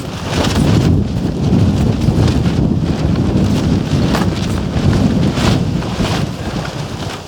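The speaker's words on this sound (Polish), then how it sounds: "No jest trochę wiatru." Steady wind roars outdoors by a lake, a constant broadband rush with gusty swells throughout and no voices.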